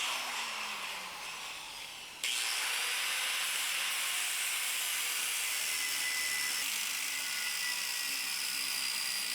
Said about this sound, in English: Time to cut off this rear one wheel peel setup so I can weld in the bearing hangers for the live axle.